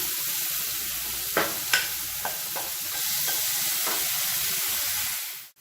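Sizzling frying in a pan as asafoetida is stirred and boiled black urad dal is added, with a few sharp clinks of the spoon early on over a steady, close hiss.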